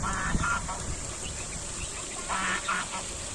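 Ducks quacking in short bursts at a lake, fairly distant over steady outdoor background noise, a couple of calls clustering near the end.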